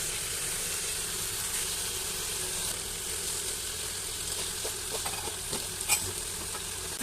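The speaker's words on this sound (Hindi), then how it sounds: "बस इस तरीके से हम तमाम बोटियों को फ्राई कर देंगे।" Chicken pieces fry in hot oil in a pan for reshmi karahi, a steady close sizzle and crackle with a few brief clinks and scrapes as the pieces are turned.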